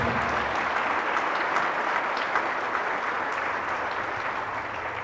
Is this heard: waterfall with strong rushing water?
no